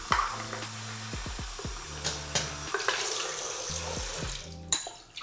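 Water running from a tap into a small shaving bowl to soak it, a steady close splash and trickle with some gurgling tones and a few light clinks.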